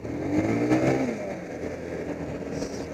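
A motorcycle with a slipping clutch revs up, its engine note rising and falling in one drawn-out swell, close by and fairly loud, with no talk over it.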